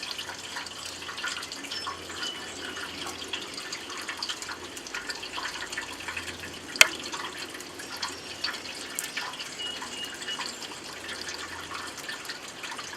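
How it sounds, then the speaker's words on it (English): Wet lettuce, arugula and other garden greens lifted out of a bowl of water, with soft dripping and trickling splashes running steadily throughout, plus one sharp tap near the middle, close and fairly quiet. "You'll notice I'm always lifting them out of the water"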